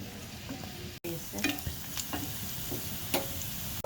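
Whole cumin, nigella seeds, red chili and onion fry in hot oil for a tempering, a close, continuous sizzle with scattered pops and small stirring clacks.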